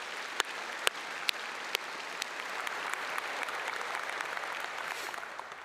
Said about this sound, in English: another round of applause for that great accomplishment.